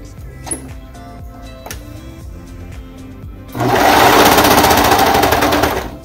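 A sewing machine stitching a bulky seam starts up after a few seconds of quiet clicks and handling, then runs as a loud, fast, steady whirring rattle close by for over two seconds before slowing.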